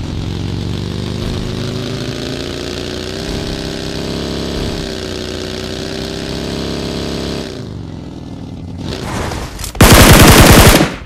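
A steady vehicle engine drone runs through most of the BGMI battle royale match, then a loud, close burst of rapid gunfire erupts near the end.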